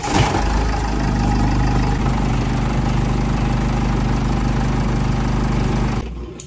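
A Mercedes GLE 250d diesel engine with a vibration fault idles close by in a steady, even rumble that holds for about six seconds before cutting off.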